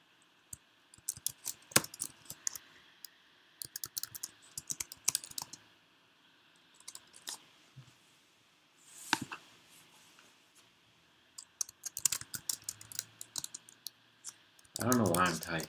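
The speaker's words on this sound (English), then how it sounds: "I don't know why I'm typing" Bursts of close, rapid keyboard clicks come and go in uneven clusters over a quiet room, with brief pauses between runs of typing.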